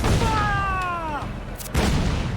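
Ship cannon fire in Assassin's Creed 4 Black Flag during a naval chase, loud booming blasts with a descending whistling tone and a sudden sharp crack near the end, under dense rumbling battle noise.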